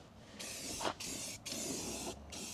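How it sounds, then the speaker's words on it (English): A spray paint can hisses onto a truck engine in steady, close bursts, three long sprays separated by brief pauses. "just a spray bomb"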